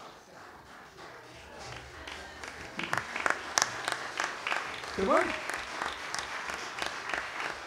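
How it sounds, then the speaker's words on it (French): Audience applause at a Quebec gathering marking fifty years since de Gaulle's "Vive le Québec libre" speech, a steady patter of clapping from a crowd that swells midway, with a brief spoken question from a speaker over it. "merci de vos applaudissements"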